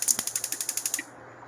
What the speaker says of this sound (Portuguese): Ligar o fogo.